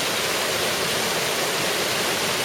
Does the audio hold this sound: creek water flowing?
yes